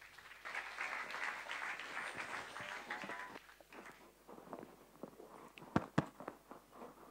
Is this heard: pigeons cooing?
no